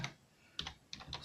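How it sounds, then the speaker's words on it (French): Short bursts of keystrokes as a name is typed on a computer keyboard, a few quick taps in two clusters with a pause between, close and moderately loud in a quiet room. "on a Robert Isauer, donc on va l'écrire"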